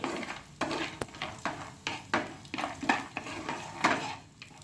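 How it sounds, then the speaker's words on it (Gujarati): Peanuts being sautéed in a pan for dry garlic chutney, repeated scraping and clinking strokes of a spatula against the pan over a low sizzle, close and rhythmic. "હવે આપણે આ સમયે માંડવીના બી આમાં એડ કરી દઈશું અને એને પણ સરસ રીતે આમાં સાતળી લેશું"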